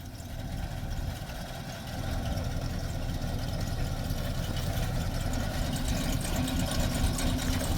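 A warmed-up 1964 Dodge sedan engine idles steadily and fairly close, a low rumbling drone that holds even for the whole stretch with no revving.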